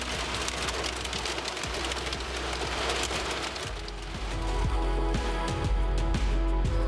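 Storm rain and quarter-size hail drum steadily on a car in the Badlands, a dense close patter that thickens toward the end, with sharp individual impacts standing out.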